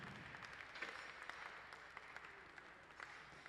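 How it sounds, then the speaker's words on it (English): Faint, distant applause from a small audience at a museum glassblowing demonstration, scattered hand claps rising and fading over a few seconds, with no speech. "And let's give them a round of applause for finishing that piece."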